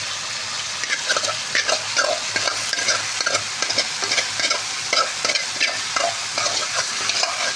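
A fish head, tail and one steak are sautéed in a pan, giving a lively close sizzle. Quick, repeated scraping strokes of stirring run through it, with no talk.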